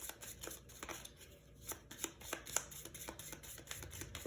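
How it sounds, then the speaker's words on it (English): Gear cards for the board game Burgle Bros 2 are shuffled by hand at close range, a quiet run of quick papery riffles and taps with short pauses in between. "I'm just going to take their gear cards. I'm going to shuffle them up."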